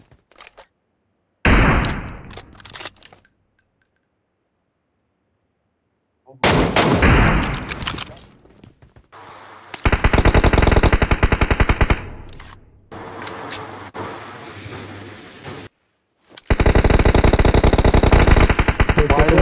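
Bursts of automatic gunfire from PUBG Mobile, loud and close, coming in several long sustained volleys separated by short gaps of silence, with no talk over them.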